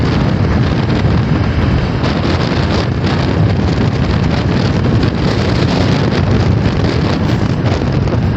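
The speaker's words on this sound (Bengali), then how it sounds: "আবহাওয়াটা হেভি হয়ে আছে, এত সুন্দর হাওয়া চালাচ্ছে কি বলবো" Wind roars loudly and continuously over the microphone on a motorbike ride along an open road between fields, heading toward Medinipur, with a dense low rumble and no voices.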